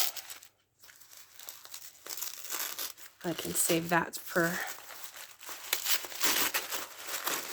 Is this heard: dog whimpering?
no